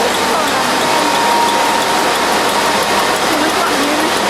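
A Tapex twist tie machine runs with its counter ticking over, giving a steady, loud, continuous mechanical ratcheting and whirring clatter throughout, with no one speaking over it.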